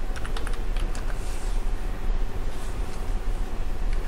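Steady typing on a computer keyboard while writing a note in SolidWorks CAD software, quick continuous key clicks over a constant low hum, close and moderately loud.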